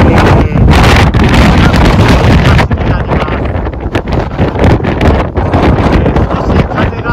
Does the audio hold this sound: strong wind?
yes